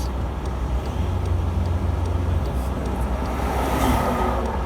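An overheating car's engine is held at raised revs while parked with the heater on full, a steady loud drone without clear rises, under faint background noise.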